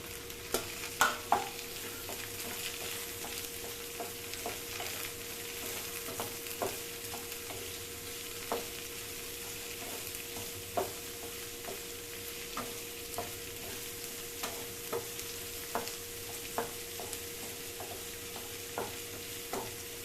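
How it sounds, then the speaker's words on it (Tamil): Radish sautéing in a pan with chana dal and urad dal for radish chutney: a steady soft sizzle with a constant hum, broken by intermittent light clicks of a spoon stirring, no voices. "இது 2 நிமிஷம் நல்லா வதங்கட்டும்."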